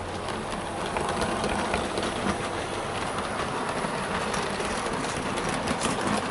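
A Heljan Class 35 Hymek model diesel locomotive pulling coaches rumbles steadily along a track with a continuous rolling clatter of wheels, constant in level throughout.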